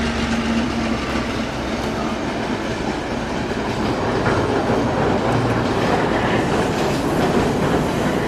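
A train rumbles steadily past close by in New Zealand in 2000, with continuous rattling wheels and clatter filling the whole stretch, no voices.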